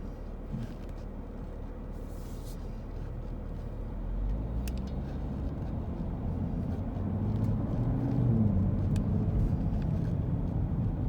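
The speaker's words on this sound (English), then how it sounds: "Now you can see you got this big traffic jam right here." Road traffic in a downtown Nashville traffic jam by the Cumberland River, a steady low rumble of engines that grows slightly louder midway, with no voices.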